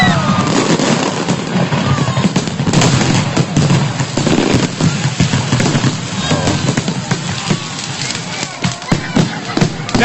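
Fireworks going off low over a collapsed launch platform in Simi Valley, injuring spectators: a loud, continuous barrage of crackling bursts and booms with crowd noise mixed in throughout.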